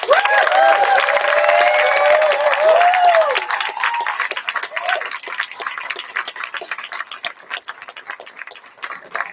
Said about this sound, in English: One big round of applause for all the fireflies.